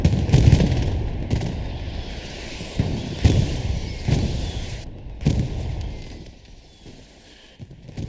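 Tank and small-arms fire in the video game Hell Let Loose around a Panzer IV: heavy booming cannon shots and bursts of gunfire at irregular intervals over a low rumbling battlefield.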